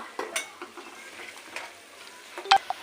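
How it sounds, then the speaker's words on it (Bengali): Onions frying in a pan while eggs and potatoes boil nearby: a soft, steady sizzle with light stirring scrapes and a sharp clink of a utensil against the pan near the end, no talking. "এদিকে পেঁয়াজ ভাজিটা এখনও হচ্ছে"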